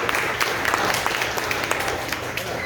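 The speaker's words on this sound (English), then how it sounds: "Round of applause for you guys" A round of applause from an audience for a group of realtors, steady clapping filling the whole moment at moderate loudness with no talk over it.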